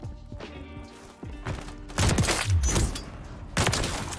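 Sniper rifle fire in a fast-paced shooter video game, several loud sharp cracks and booms with a burst near the middle and another sharp shot toward the end over game ambience.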